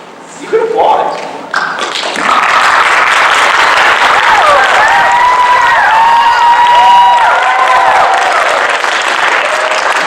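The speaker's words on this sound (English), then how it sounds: "You could applaud." Sustained applause from a debate-tournament audience fills the hall, starting with a few scattered claps that swell into steady, dense clapping lasting several seconds, with faint voices beneath.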